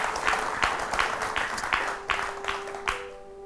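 Audience applause for a singer and actress on a television talk show, a crowd clapping in rhythmic, evenly spaced bursts that fade out at the end.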